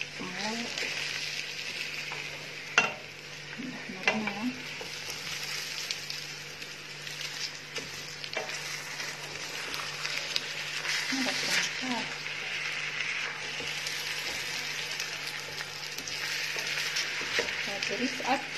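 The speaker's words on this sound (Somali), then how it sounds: "Bariiska ayaan ku soo daray hadda." Rice sizzling and frying in a pot as it is stirred, a steady loud crackle with occasional scrapes and clinks of the utensil, while a voice talks throughout.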